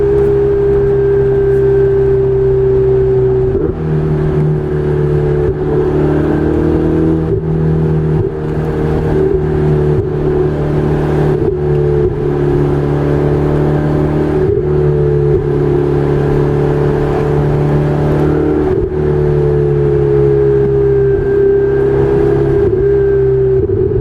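A Ferrari 488 Spider engine revs and pulls hard, loud and close, its rising note broken by several near-instant upshifts that drop the pitch before it climbs again, with no voices over it.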